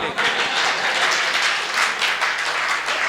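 An audience at a Hindi comic poetry show claps steadily and loudly for a few seconds in a dense wash of applause, with no pause.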